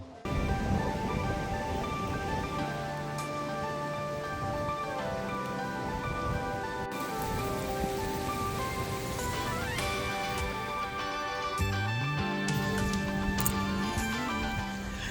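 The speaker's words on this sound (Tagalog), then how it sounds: "lumakas bigla yung ulan eh" Heavy rain pours outdoors near the Esplanade in Iloilo, a dense, steady wash that persists throughout, overlaid with tonal sounds from the surroundings.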